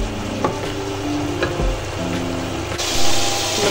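Masala and salt roast in a hot pan, a steady close sizzle and frying crackle with light scraping stir sounds throughout.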